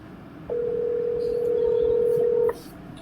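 A steady telephone ringback tone sounds for about two seconds, clear and loud against faint background noise, with no one picking up.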